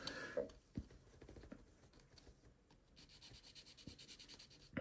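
A fingertip or tool rubs window tint film down onto a scale model, making quiet, close, repeated scratchy strokes with small taps, steady and faint with no talking.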